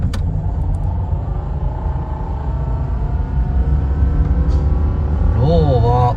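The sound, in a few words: car making an abnormal noise in low gear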